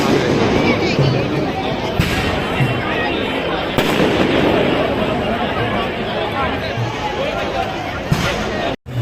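Fireworks burst and crackle over a dense, continuous roar during a Bhim Jayanti night procession in Chembur, with a few sharper bangs standing out and crowd babble mixed in throughout.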